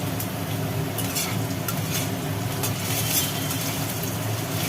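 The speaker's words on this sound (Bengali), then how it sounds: "ভাজা হয়ে গেছে মোটামুটি একটু সাইড করে" Potatoes frying in hot oil in a pan with whole cumin, cinnamon, cloves, cardamom, bay leaves and dried chillies, giving a continuous close sizzle with occasional scraping stirs of a spatula.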